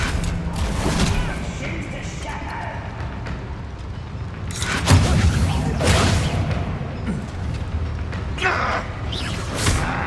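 Confringo blasting spell explosions in the Hogwarts Legacy video game, loud repeated booms and crashes amid a dense, chaotic battle din with several sharp bursts around the middle.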